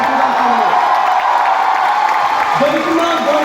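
Applause and cheering fill a hall at a training recognition program in Kolkata, a steady crowd roar with scattered clapping and whoops running under a voice that talks over it.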